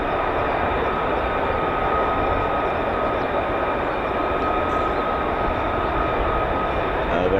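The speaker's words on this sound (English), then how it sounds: "the F-35s that have taxied, they are using runway 24" US Air Force F-35 jets taxiing at RAF Lakenheath, a broad, steady engine roar with a whining tone held at a constant level throughout, heard from a moderate distance.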